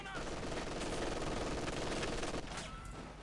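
Sustained rattling MG42 machine gun fire in a video game, a continuous dense roar of rapid shots at moderate level, steady throughout with a slight drop near the end.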